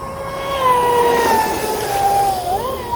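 A Sonicwake V2 RC boat's electric motor whines at high throttle, a loud, steady, close-up tone that climbs and wavers slightly as the speed builds.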